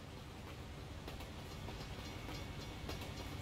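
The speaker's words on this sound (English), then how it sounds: "Train going by." A train rolls past in American Truck Simulator, a steady broadband rumble and rushing noise with faint rhythmic clatter throughout, loud and close, without voices.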